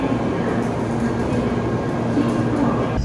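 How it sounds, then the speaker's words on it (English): Steady interior rumble of a Shinkansen bullet train on the way to Naoshima, Japan: a continuous low roar with a faint high whine, loud and unbroken throughout with no talk. "First mission of getting on to the Shinkansen was a success"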